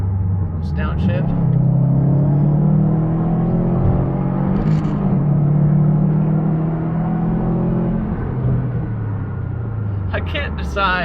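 A 2018 Subaru STI engine revving up after a downshift, a loud sustained in-cabin drone that climbs in pitch, dips at the shift and rises again, with someone talking over it.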